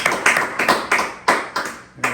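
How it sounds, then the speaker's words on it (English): A small banquet crowd at a turkey-calling tournament award ceremony claps in a sparse, uneven handful of sharp claps, close and brief rather than a full roar. "Crowd goes wild."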